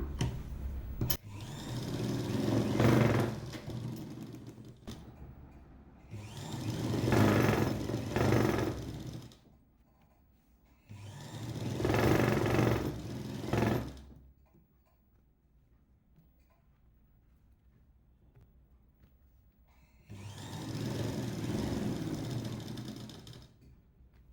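A sewing machine stitches blouse lining and main cloth together for an Aari blouse, running in four separate bursts of rapid mechanical whirring with quiet pauses between them.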